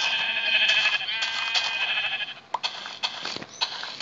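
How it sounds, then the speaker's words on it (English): A sheep in the Minecraft Pocket Edition video game bleats loudly in a long wavering call, followed by a few short clicks and bumps. "Another sheep! I'm so lucky!"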